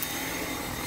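A Dyson V7 cordless stick vacuum runs steadily during daily floor cleaning, a constant close whirring hiss with no break.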